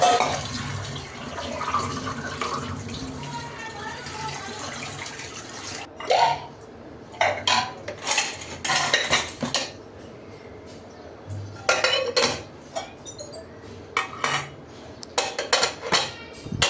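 Plates, bowls and dishes being washed at a sink, running water under scattered clinks and clatters of crockery, with bursts of knocking and rattling coming in clusters during the second half.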